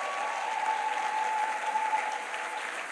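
A church congregation applauds to acclaim Jesus, steady dense clapping that fills the whole stretch at an even level, with a faint sustained tone running underneath.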